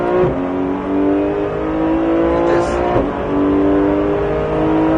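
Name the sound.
Porsche race car accelerating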